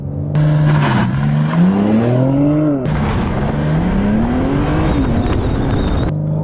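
A 2022 BMW M4 Competition Convertible xDrive launching hard in Sport Plus, the engine revving up through gears with rising pitch and brief drops at shifts, loud and close throughout.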